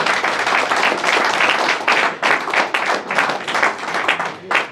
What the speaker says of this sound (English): I think that deserves one applause.